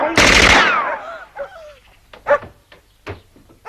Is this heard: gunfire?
yes